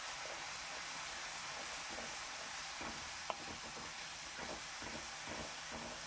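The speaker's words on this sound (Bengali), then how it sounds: "ভালো করে একটু কষিয়ে নিতে হবে। দেখুন, বেশ সুন্দর করে আমি একটু নাড়িয়ে চাড়িয়ে নিচ্ছি।" Chicken curry spices frying in a pan with chilli powder while being stirred: a continuous loud sizzle and hiss with faint scraping from the stirring, close up, no voices.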